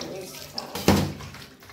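Sliced fish being rinsed under a running kitchen tap, a short close burst of splashing water over a soft background hiss, with no one talking.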